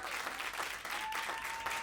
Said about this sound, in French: On applaudit très fort Victoria Picon, s'il vous plaît.